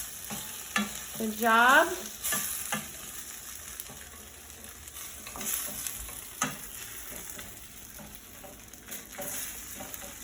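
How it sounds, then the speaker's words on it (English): Egg fried rice being stirred and mixed in a pot, soft scraping and tossing over a gentle sizzle, with a short squeaky sound early and brief words spoken quietly. "so now it's going to mix everything together in the pot"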